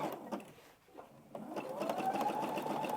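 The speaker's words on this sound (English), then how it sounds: "And I'm just slowly stitching." A sewing machine slowly stitches around the edge of an Easter egg on a table runner, a steady close whirring that pauses briefly before resuming, with faint talk over it.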